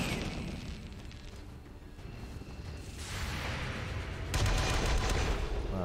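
Gunfire crackles through a firefight in XCOM 2, a dense rolling barrage of rapid shots and bursts that swells louder toward the end, with no voices over it.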